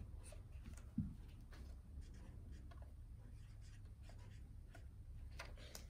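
Pencils scratching on paper as kindergarten children write during a classroom math lesson, a soft continuous scratchy rustle at low volume with a faint room hum and no talking.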